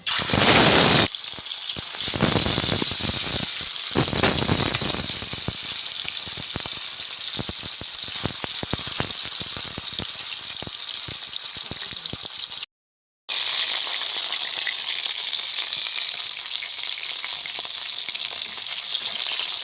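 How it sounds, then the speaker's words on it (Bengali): Rohu fish sizzling in hot oil in a pan, a loud steady crackle and spatter with dense popping that drops out briefly near the end before resuming. "তেল গরম হয়ে গেছে, এবার মাছ দিয়ে দেব"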